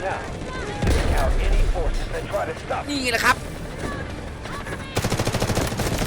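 Rapid bursts of M4A1 assault rifle fire crackle amid chaotic sounds in the game Delta Force, with a person talking excitedly over the shooting.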